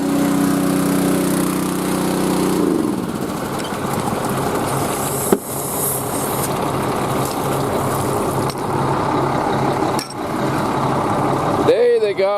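A diesel truck engine running steadily with a loud, continuous low rumble, joined by a voice talking over it and a few brief knocks near the end.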